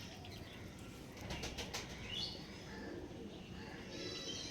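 Pigeons flutter and shuffle nearby, wings flapping in short bursts over a steady, noisy background.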